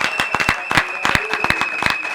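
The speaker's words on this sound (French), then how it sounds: "Nous pouvons l'applaudir." An audience claps at a formal political gathering in Congo, with a burst of scattered, uneven handclaps repeating across two seconds alongside a steady tonal hum, sounding moderately close.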